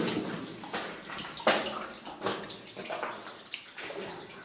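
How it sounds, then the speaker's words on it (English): Water trickles and splashes steadily through an old mine tunnel, a continuous close rushing and gurgling with irregular louder splashes and no talking. "Got water coming through here."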